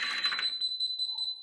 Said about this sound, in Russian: Но оно сейчас так пищит, потому что у него батарейка садится.